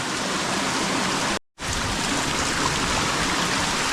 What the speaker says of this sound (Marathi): मित्रांनो जबरदस्त पाऊस चालला आहे बघा